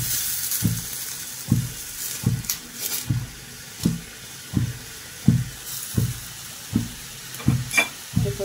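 Native singi catfish, washed beforehand, cooking in a hot pan. A low, even sizzle runs under regular soft thumps about once a second, suggesting steady stirring, close by and fairly quiet.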